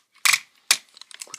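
Ratchet joints in the thigh of a Transformers Combiner Wars Leader Class G1 Megatron figure give two sharp plastic clicks close up, followed by a run of lighter, quicker clicks as the leg is bent.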